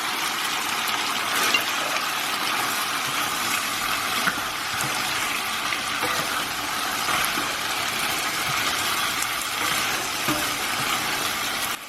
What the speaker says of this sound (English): I'm going to add a dash of water because I want it a bit more saucy.